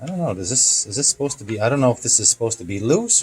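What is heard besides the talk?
No everyday noises stand out.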